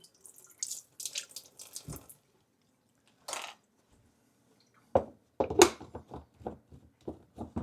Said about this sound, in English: Let's do 2 more tablespoons of water.